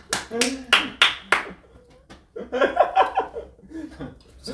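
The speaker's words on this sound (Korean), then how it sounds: "좋다, 박수 쳐 좀 끝까지 할 사람이야." Several sharp, close hand claps in a quick run, followed by laughter and chatter from a few people, with a couple of softer claps near the end.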